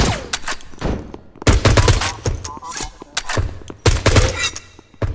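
Rapid bursts of gunfire in the video game HOLE, loud and close, with sharp repeated shots in clusters separated by brief pauses, some fast machine-gun-like runs.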